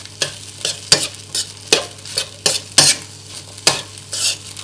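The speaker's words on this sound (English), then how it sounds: "You need to constantly stir this rice" Cooked rice for pineapple egg fried rice, with sausage and prawn, stir-fried in a wok over medium heat: about ten rhythmic scraping strokes close by, each over a soft sizzle, with no talking.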